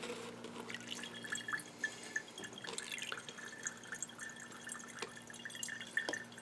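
A liquid sample drains from a funnel into a container, faint close drips and trickles landing at irregular intervals over a quiet background.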